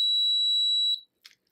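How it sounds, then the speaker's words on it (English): RV keyless entry lock beeping during fob programming, a single loud sustained electronic beep of about one second, then a brief click and quiet. "it should give us a beep to confirm that it's on"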